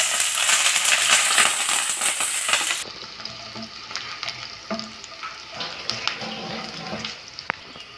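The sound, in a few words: frying green chilies, curry leaves and garlic in oil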